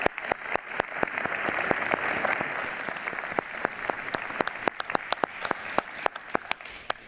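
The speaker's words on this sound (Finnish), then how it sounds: "annetaan iso aplodi sekä meidän arvovaltaiselle upealle paneelille että yleisölle" An audience applauds a panel at the opening event of Reiluuden Liiga, a workplace-fairness initiative. Steady applause continues throughout, with sharp individual claps standing out against the dense crowd clapping.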